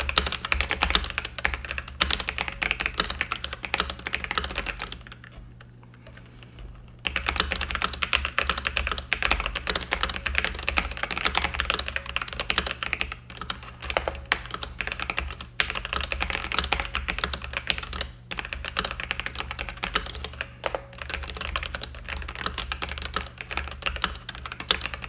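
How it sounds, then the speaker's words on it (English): Steady fast typing on a Nimbleback Kilmat keyboard during a typing test, dense close clicking and clacking keystrokes for about twenty-five seconds with one brief pause near the start. "we'll do the typing test right now"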